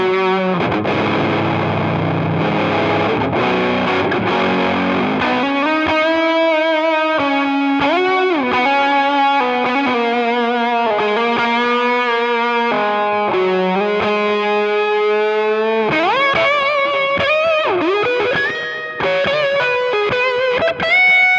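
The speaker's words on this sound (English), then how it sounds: "here's what that sounds like with a bunch of delay, reverb, and fuzz with the Vemuram" An electric guitar plays through delay, reverb and a Vemuram fuzz pedal. Loud, sustained melodic notes and chords trail into echoing, smeared tails, with a thick fuzzy distortion throughout.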